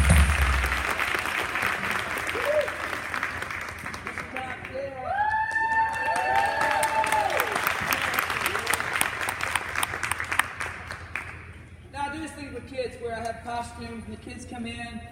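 A conference keynote audience claps to bring a music teacher up on stage. Dense applause is mixed with cheering and whooping voices, then fades into music near the end.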